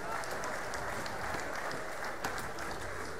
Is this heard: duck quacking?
no